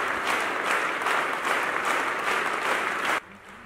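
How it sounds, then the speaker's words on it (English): Loud, sustained applause from a church congregation attempting a loudness world record, a dense wall of clapping that holds steady for about three seconds before cutting off abruptly. "the sound of the applause had to remain above 80 decibels and be the only sound generated throughout the event"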